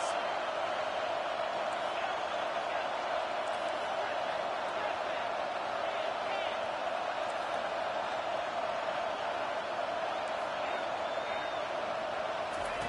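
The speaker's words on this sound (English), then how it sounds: "this crowd will blow out a vocal cord to help this defense" Stadium crowd noise on third down in the College Football 25 video game, a broad steady roar held at constant loudness, with faint whoops.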